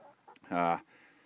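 A golden comet hen in a small 4x8 backyard coop holding seven young birds, six of them hens, gives one drawn-out cluck close by over a faint hum.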